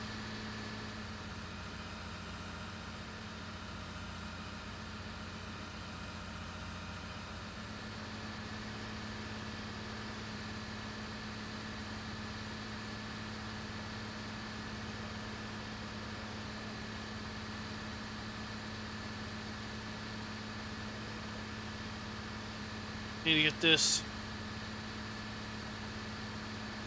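A farm tractor in a farming video game idles steadily while seeding, a low, even engine drone that continues throughout, with a brief sharp clatter near the end and a faint spoken voice.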